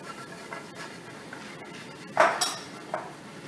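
A spoon scraping and knocking against a cooking pot while flour is mixed in for a roux with pork chops, soft scraping broken by several sharp metallic clinks, the loudest near the end.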